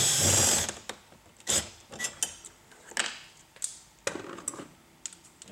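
A Phillips screwdriver turns car door panel screws on a 2007 Infiniti G35, with a run of close, sharp clicks and ratcheting taps, beginning with a brief louder rustle.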